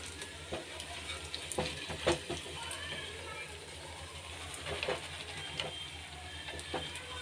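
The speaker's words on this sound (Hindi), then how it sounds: "सो बस ये माशाल्लाह से अपने फ्राई हो रहे हैं मज़ेदार से बड़े" Cheese balls frying gently in a pan on a low flame, a soft continuous sizzle with intermittent scraping and stirring clicks, under a quiet background.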